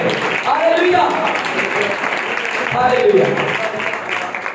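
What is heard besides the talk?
church congregation applauding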